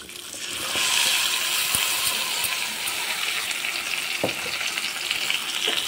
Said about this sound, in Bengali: কাঁঠালের বীজগুলো ঢেলে দেব।